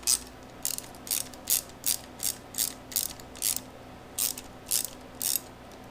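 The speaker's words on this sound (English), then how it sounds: "next up we can start loosening our upper radiator hose clamps" A ratchet clicks in quick bursts while the upper radiator hose clamps on a KLR650 motorcycle are loosened, about a dozen short, crisp, evenly paced clicking runs heard close up over a faint hum, with no talking.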